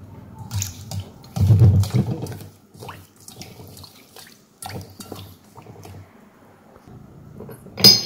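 Green tea leaves being rinsed under running water, with intermittent splashing, trickling and dripping bursts, close and moderately loud, plus a few light knocks against a bowl or sink.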